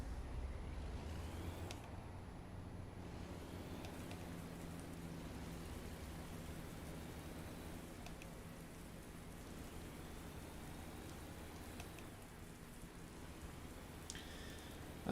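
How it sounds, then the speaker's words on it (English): Steady rain falls in American Truck Simulator, a fog-and-rain weather scene on a Texas road, and it forms a soft, even hiss that continues at low volume throughout with no voices. "I didn't think Texas got this much fog and rain."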